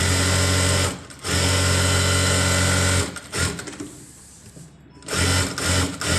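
A sewing machine stitches a blouse, a loud steady whirring run that pauses briefly, stops for a quieter stretch, then starts up again near the end.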